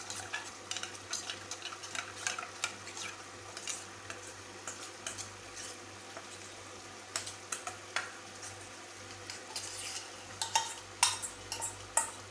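A spoon stirs masala into gravy in a pan, giving repeated soft scraping taps in an irregular rhythm over a faint background hum.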